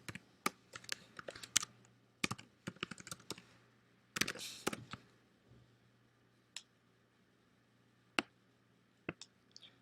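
Typing on a computer keyboard: bursts of sharp, close key clicks in irregular clusters with pauses between them, then a few isolated taps, over a faint steady hum.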